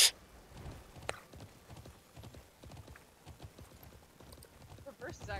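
Horse hooves clip-clop in the video game Alicia Online, a quick rhythmic patter of close, crisp hoofbeats continuing steadily with a brief bright sound at the start, no voices.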